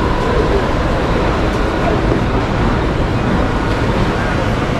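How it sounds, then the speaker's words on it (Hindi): Mumbai local train on the CSMT to Kalyan line pulling out of a station, a continuous loud rumble and roar of wheels and carriage noise filling the whole stretch with no clear voices. "यहाँ से ट्रेन भी डिपार्ट करती है।"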